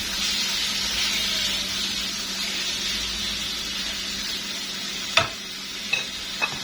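Chicken seasoned with salt and black pepper being stir-fried in a pan, a strong steady sizzle and hiss with a few sharp clinks of a utensil near the end.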